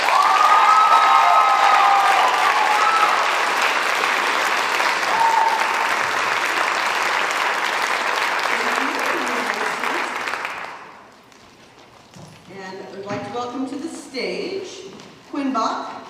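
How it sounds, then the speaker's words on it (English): Audience applause rings out loud and sustained at a senior awards ceremony right after an Excellence in Literature Award is announced, then fades out as the room quiets and a voice begins talking. "Please give a round of applause for our Excellence in Literature Award to Ava Linden."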